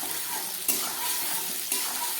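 Tomato and whole garlic cloves fry in a pan with a dense, even sizzle that holds steady throughout, broken by two brief scraping stirs, close and fairly loud, with no talking.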